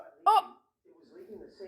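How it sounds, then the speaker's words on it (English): One sharp, short hiccup sounds up close, followed by a soft, low voice speaking. "get rid of the hiccups"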